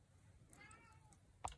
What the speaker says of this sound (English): I hope my kitty is not driving you guys crazy.